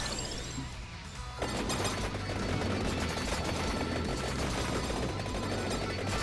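Turret gunfire in Vampire Survivors during its Contra add-on, a sudden dense stream of rapid shots and impacts that starts after a quieter second and keeps up loud and steady, no talking.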